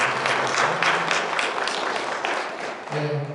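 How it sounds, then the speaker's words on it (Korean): Audience applause after a professor's lecture, a dense, steady burst of clapping from a seated crowd that swells and then thins out within a few seconds. "다시 한번 박수 한번"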